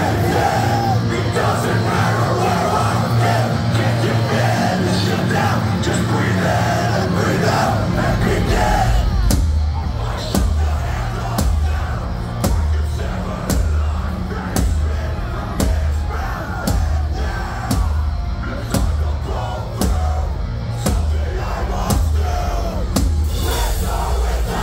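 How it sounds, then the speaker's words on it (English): At a Toronto concert, a packed crowd loudly screams lyrics together. Pounding drums and heavy music join after the first few seconds, with the shouting continuing beneath them. "The volume in that room from everyone screaming their lyrics at the top of their lungs had shivers down my spine."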